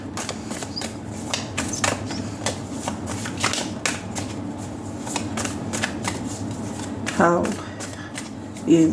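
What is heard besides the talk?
tarot cards being shuffled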